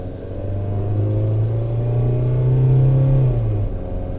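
A diesel Toyota Camroad 4x4 camper engine drones loudly from inside the cab as it accelerates along a paved road, the pitch rising steadily then dropping as it shifts near the end.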